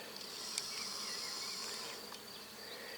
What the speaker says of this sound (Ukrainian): Вся смолка шевелиться від бджоли